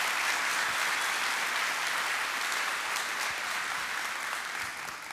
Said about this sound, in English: So I'll give her a round of applause.